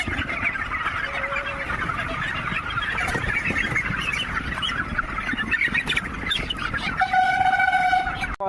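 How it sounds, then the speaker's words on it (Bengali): Chickens on a winter poultry farm clucking and squawking continuously as broilers are caught by hand, with flurries of agitated calls close by and a sharper burst of cackling near the end. "তো আমরা সেই হিসাবে মুরগিটা ধরছি"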